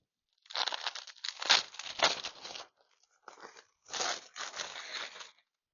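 A package opened with scissors, its papery wrapping crinkling and tearing in close, loud bursts separated by short pauses.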